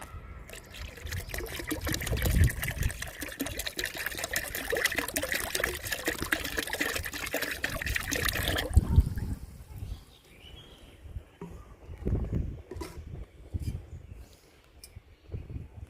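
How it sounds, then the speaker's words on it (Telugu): Fermented sour buttermilk, used for a homemade liquid plant fertilizer, pours in a continuous splashing stream into a container of water for about nine seconds, then gives way to quieter dribbles and drips. "ఈ పులిసిన మజ్జిగని ఈ వాటర్లో డైల్యూట్ చేసుకుందాము"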